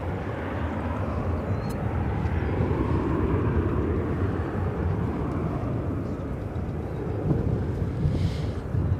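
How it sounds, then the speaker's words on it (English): An American Airlines Boeing 737-800 from Austin arrives at DFW, its jet engines giving a steady, moderately loud rumbling roar with wind buffeting across the microphone and no talk. "we see this American flight coming in from Austin, Texas, the capital. 737-800"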